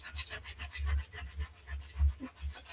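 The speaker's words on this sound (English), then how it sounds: "I'm removing last month's transfer" Scraper rubbing off an old Chalk Couture transfer, a close, quiet series of quick rhythmic scratchy strokes with no talking.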